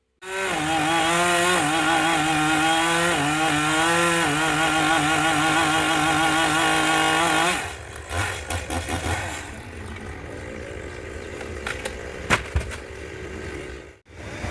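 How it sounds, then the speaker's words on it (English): A chainsaw roars loud and close while cutting down a tree trunk, its engine pitch wavering with the load for about seven seconds before it drops to idle amid scattered knocks and rustling. "starting to cut down that trunk piece by piece"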